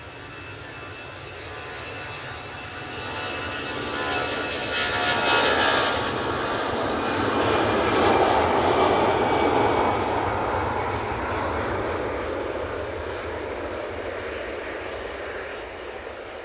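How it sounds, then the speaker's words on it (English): An Aer Lingus Airbus A320 jet departs Manchester Airport, its engine roar swelling into a broad, loud rumble around the middle, then holding steady as the aircraft climbs away. "Aer Lingus going back to Dublin using their A320"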